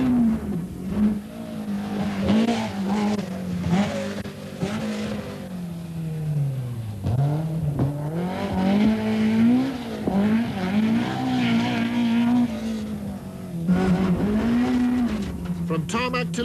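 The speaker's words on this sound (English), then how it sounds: "inside the BMW with Bertie Fisher and a rather terrified Jackie Barclay" Onboard a BMW rally car on a tarmac stage during the 1991 Donegal International, the engine roars loud and close, rising and falling as it revs hard through gear changes.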